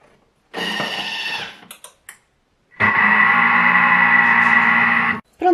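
A Bimby kitchen machine kneads bread dough for a homemade loaf, with a loud steady motor whir, a pause with a few clicks, then a second long continuous run that stops abruptly.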